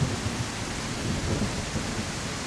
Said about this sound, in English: too early for a storm, isn't it?